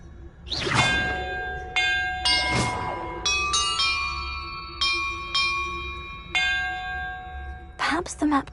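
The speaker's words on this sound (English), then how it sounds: "Perhaps the map contains clues about the order I'm supposed to ring the bells in." Bells ring a sequence of clear tones in Hogwarts Legacy, each strike a bright chime that sustains and overlaps the next, with whooshing game effects at the start and end.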